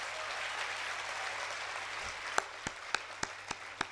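Audience at a Gujarati motivational speech bursts into applause, a wash of many hands that thins into a few separate, distinct claps near the end.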